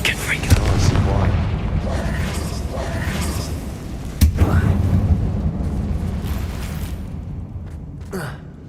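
Confringo blast spell in the Hogwarts Legacy video game set off inside an abandoned mine tomb, a booming explosion with a sharp crack that rumbles and fades over several seconds, followed by a second smaller hit, with a voice also present.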